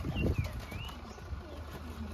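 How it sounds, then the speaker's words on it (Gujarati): A pigeon coos softly amid faint chirps and light rustling, with a steady outdoor hum behind it. "કબૂતર તો આવી ગયું છે"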